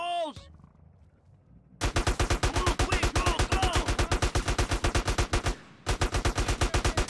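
In GTA San Andreas Remastered, a gun fires at police in long bursts of rapid, evenly spaced shots that break off briefly near the end before starting again, loud and close.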